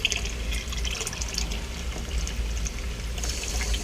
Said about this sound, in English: I'm going to pitch the yeast.